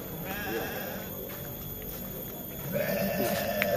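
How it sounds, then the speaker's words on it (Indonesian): Goats in a pen bleat several times, wavering nasal cries close by that grow louder toward the end over a quiet rural background. "Kalau ini kandang kambing punya Bapak,"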